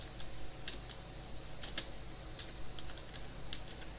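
Keys on a computer keyboard clatter in irregular bursts as a heading is typed into a PowerPoint slide, close and moderately loud against steady low room hum, with no talking.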